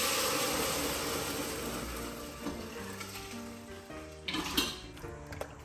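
Steady sizzling of spices tempering in hot oil for goat trotter paya, a dense crackling hiss throughout with a few clinks of a utensil against the pan near the end.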